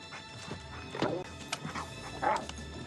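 A dog barks in the 1994 film The Ref, giving a few sharp, separate barks at close range among other busy scene noises.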